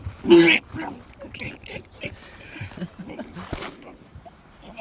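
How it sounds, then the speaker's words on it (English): A loud, squealing grunt bursts out right at the start, followed by quieter rustling, snuffling and a few low voices nearby. "Sounds like a pig."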